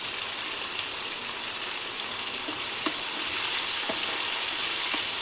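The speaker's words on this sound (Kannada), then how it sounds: "ಚೆನ್ನಾಗಿ ಫ್ರೈ ಆಗಲಿ ಸ್ವಲ್ಪ" Curry leaves, green chilli and onion frying in a pan for an ivy gourd stir-fry, giving a steady, close sizzle with faint crackles and a few soft clicks of stirring, no voices.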